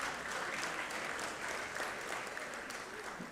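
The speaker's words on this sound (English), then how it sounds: "Everybody give Dr. McCormick a round of applause here for being here today." Steady applause fills the Georgia Senate chamber during a morning session, honoring a visiting congressman, a dense, even patter of many hands clapping at moderate volume throughout with no pause.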